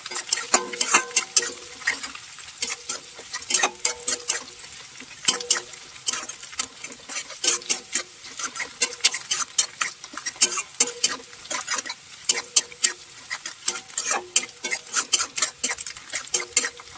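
Egg, vegetables and green chilli frying together in a pan, with a spatula repeatedly scraping and tapping in quick irregular bursts over a soft sizzle, close and clear.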